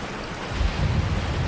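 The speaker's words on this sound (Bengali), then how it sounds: "আকাশ ভেঙে মুষলধারায় বৃষ্টি নেমেছে" A heavy downpour as a sound effect in an animated horror story: a dense, even rush of rain that swells slightly in the low end midway and keeps going without any voices.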